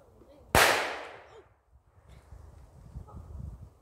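A single sharp gunshot fired at a squirrel nest during an outdoor squirrel hunt, loud and close, with a fading echo and faint rustling afterward.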